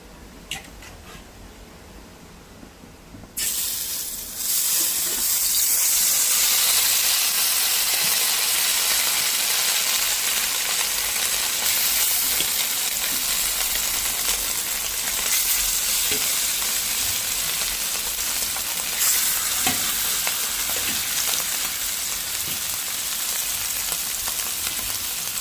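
After a quiet start, a loud, steady sizzle and crackle of fish frying in hot oil bursts in and continues unbroken, with occasional pops and spatters.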